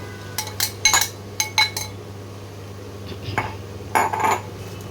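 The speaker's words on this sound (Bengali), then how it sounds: "মশলার সঙ্গে আলুটাকে ভালো করে মিশিয়ে নিচ্ছি।" A utensil clinks and scrapes against a cooking pan while boiled potatoes are mixed with spices, in short clattering bursts with quiet gaps between them.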